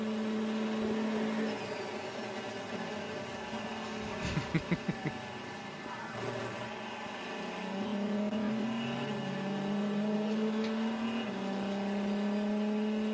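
On-board engine of a race car at the Le Mans 24 Hours 2012, a steady loud drone that climbs and drops with gear changes, brief clattering shifts midway, heard alone without commentary.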